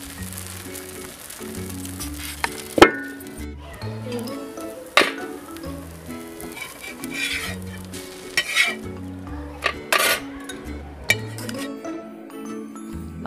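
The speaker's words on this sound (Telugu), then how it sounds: "దోశ వేసాను చూడండి, సూపర్గా ఉంటుంది దోశ" Blood fry dosa batter sizzles on a hot pan outdoors, with a steady low hiss of frying and occasional sharp metallic clinks and scrapes from a spatula against the pan.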